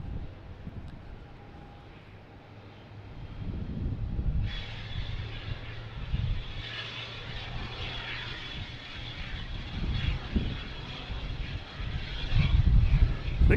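An Embraer E175 airliner on its takeoff roll at Boston Logan, a distant jet roar building steadily in broadband noise, with wind rumble and faint background chatter.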